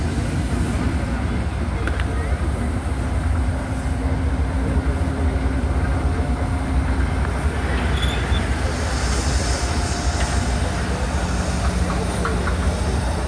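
A locomotive rolls along rails at the Rendez 2024 railway event with a steady loud rumble, wheel noise and faint squeals, and people talk beneath it throughout.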